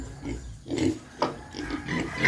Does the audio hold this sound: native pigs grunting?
yes